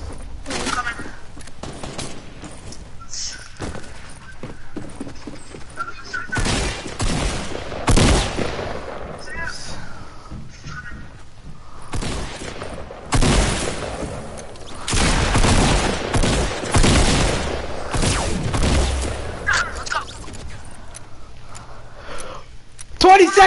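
Gunfire in a PS4 shooter game, with bursts of rapid shots and heavy fusillades that flare loud at intervals, mixed with excited voices talking over the action throughout.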